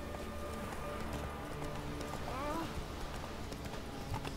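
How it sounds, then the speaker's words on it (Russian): A horse in The Witcher 3 trots up with steady clip-clop hoofbeats and a short whinny, heard under game ambience. "Давайте позовем лошадь. Вот и она, наша красотка."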